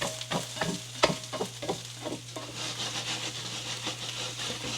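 Hash browns fry in a HexClad pan, giving a close sizzle broken by repeated scraping and stirring strokes from a utensil against the pan.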